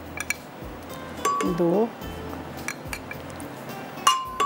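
Tablespoon clinking against a bowl while gram flour is added for an Afghani chicken gravy, a few sharp metallic clinks scattered between spoken counting.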